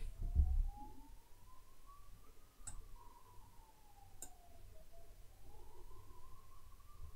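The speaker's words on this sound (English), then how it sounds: "Ambulances are in good form." A distant ambulance siren wails in slow rising and falling sweeps, faint and continuous over a quiet background with a couple of sharp clicks.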